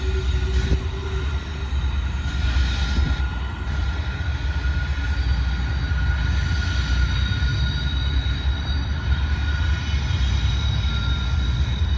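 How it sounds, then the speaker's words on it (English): A Norfolk Southern freight train rumbles past close by, a loud continuous roar of wheels and cars with a steady low drone and thin tonal squeals running through it. "That Norfolk Southern train is back on their home rails."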